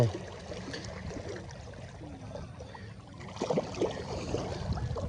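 Fast-flowing floodwater rushes through a village past damaged crops, a constant washing, gurgling flow that swells louder toward the end, with no voices.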